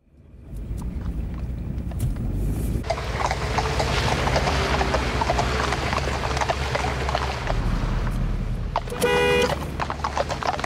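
Hooves clip-clop steadily on pavement as traffic rumbles past, with a short horn toot near the end.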